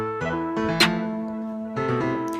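Programmed GarageBand iOS beat, a looping melody with a punchy snare placed every three counts, one sharp snare crack cutting through the sustained tones.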